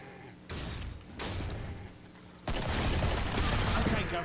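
Heavy .50 caliber gunfire in the co-op shooter game Killing Floor, loud sustained bursts that start and stop in blocks, growing fullest and most continuous toward the end.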